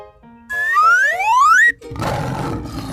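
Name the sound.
lion roar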